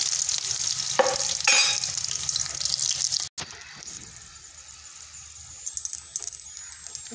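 Green chillies frying in hot oil in a pan, a loud close sizzle with stirring, briefly cut off, then a quieter crackle with small pops; no talk.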